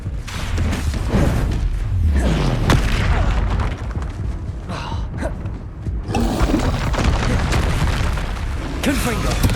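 Bombarda spell blasts in Hogwarts Legacy go off as heavy booming explosions with crackling debris, several loud bursts over about ten seconds, while a voice calls out spell names throughout.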